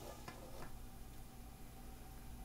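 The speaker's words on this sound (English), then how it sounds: "sizzling right along" Chili spaghetti ingredients sizzle steadily in a frying pan, a soft, continuous hiss with faint crackles and no talking.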